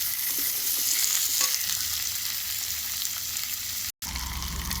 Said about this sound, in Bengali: এখানে বিনস আছে, পেঁপে আছে, আলু আছে, এটা ভাজবো।